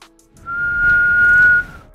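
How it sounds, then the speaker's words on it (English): A car's brakes give a sustained high-pitched whistle, a single steady tone lasting about a second over low rumbling, loud and close, with no talking. "your fucking brakes whistling, ain't they?"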